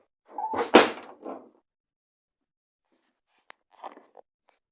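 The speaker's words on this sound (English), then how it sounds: "I'm just going to shut the door." An indoor door is pushed shut with a short thud and rattle, then a few faint clicks and small knocks follow in a quiet room.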